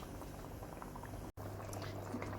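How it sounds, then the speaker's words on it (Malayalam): Medicinal mutton roast gravy bubbling on a medium flame, a soft continuous simmer with small pops and a low hum, close but quiet, with a brief dropout midway. "നന്നായി തിളയ്ക്കാൻ തുടങ്ങിയിട്ടുണ്ട്."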